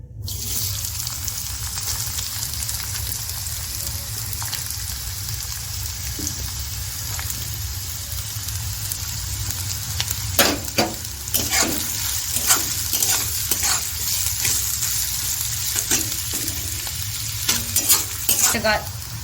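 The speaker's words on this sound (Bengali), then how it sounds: "প্রথমেই আমি গাজরটাকে হালকা করে একটু ভেজে নেব" Carrots frying in hot white oil in a wok, a steady close sizzle with bursts of scraping and stirring clatter growing busier toward the end, no voices.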